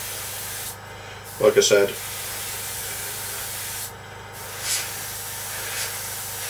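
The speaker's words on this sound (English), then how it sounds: "just going to give that a good overall coat of varnish and see how it looks." Steady hiss of varnish being sprayed in a good wet coat over a scale model Seafire, continuing under a short spoken phrase, with faint later bursts.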